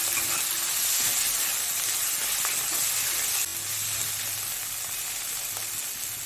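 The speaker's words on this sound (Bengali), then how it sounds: "একটা টমেটো ছোট ছোট করে কেটে রেখেছিলাম, ওটা দিয়ে দেবো। দিয়ে আর একটু ভেজে নেব।" Chopped tomato fries with ginger and garlic in a pan for a Bengali koi fish curry, giving a steady, close sizzle that stays alone and even for the whole stretch, dipping slightly midway.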